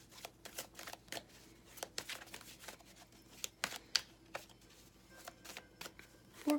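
Tarot cards shuffled in a steady run of quick, soft riffling clicks and slaps, close and fairly quiet, with no talking.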